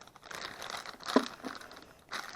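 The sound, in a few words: plastic bag being opened, crinkling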